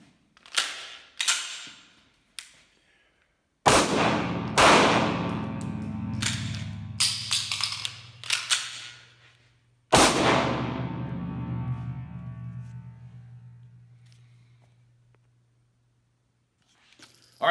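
A Sig P320 M17 handgun fires on a range, with sharp metallic clicks and magazine handling, then loud shots with ringing tails spaced irregularly through the sequence.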